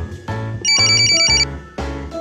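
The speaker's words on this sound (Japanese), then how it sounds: "カオルから電話。" Phone ringtone in the Bang Dream rhythm game plays as a loud, close electronic melody of bright chiming notes with a trilling phrase in the middle. No voices are heard.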